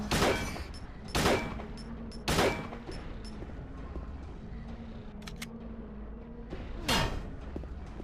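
Gunfire in Silent Hill on the PS3 HD Collection: sharp, loud shots ring out in irregular bursts, a few close together early and one more after a long pause, each with a short echoing tail over a low ambient hum.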